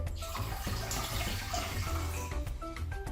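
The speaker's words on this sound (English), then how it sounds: "we're going to get 3 cups of water and put it into" Three cups of water pour into a pot for sugar syrup in a home kitchen, giving a faint steady splashing trickle that runs without a break and sits close but quiet.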